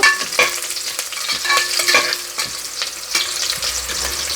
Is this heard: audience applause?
no